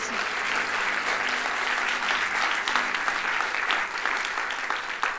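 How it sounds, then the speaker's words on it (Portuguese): A church congregation in Lisbon gives a round of applause for Jesus during a service. Steady, full clapping from many hands continues throughout at an even level. "pode dar mais uma salva de palmas a Jesus?"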